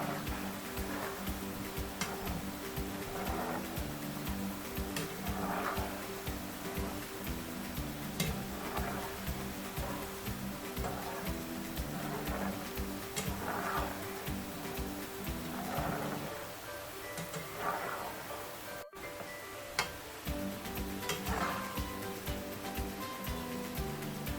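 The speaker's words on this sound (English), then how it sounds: "Just keep stirring it until it's fully fried." Coated peanuts fry in hot oil while being stirred, a steady background sizzle broken by regular scraping and clicking strokes of the spoon against the pot, heard close and without talk.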